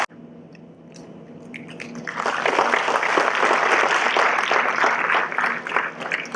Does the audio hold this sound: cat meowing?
no